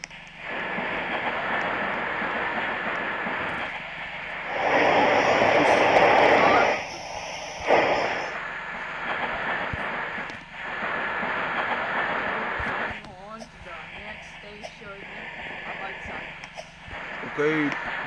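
A subway train in the Roblox Brookhaven game rolls with a rising rush and clatter that swells loudly for a couple of seconds, then rumbles on beneath excited player chatter.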